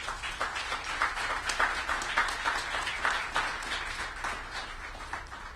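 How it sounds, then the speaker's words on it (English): An audience at a Washington DC Main Street corridor announcement applauds the mayor, a steady, dense round of clapping that holds for several seconds without fading. "Let's give him a round of applause."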